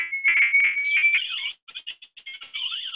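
A firefighter's personal alarm device goes into alarm with a loud, steady electronic tone that breaks into rapid warbling, chirping beeps, close and alone.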